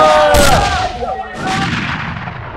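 Gunfire from a firing squad after a shouted order to fire, one loud close burst followed by a second report and a fading rumble.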